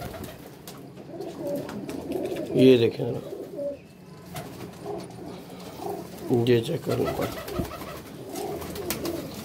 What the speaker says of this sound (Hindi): दूसरा कबूतर आ गया